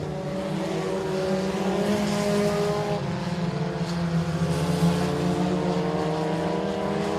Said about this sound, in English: 1 lap remaining in heat race competition here at the Hill for the 49th Annual Louisiana State Dirt Track Championship.